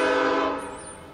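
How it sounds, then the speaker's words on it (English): A Woodstown Central Railroad scenic excursion train pulling into Woodstown sounds its horn in one loud, sustained chord that fades as it ends, with no other sound over it. "Beginning the day with the train coming into Woodstown."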